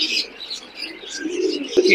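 Tumbler pigeons at a busy pigeon market give soft, low cooing with scattered higher chirps from nearby birds, steady and close, while people talk in the background.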